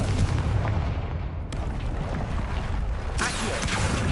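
A Confringo spell blast in Hogwarts Legacy, a loud booming explosion with a sustained rumbling roar and a second sharp burst near the end.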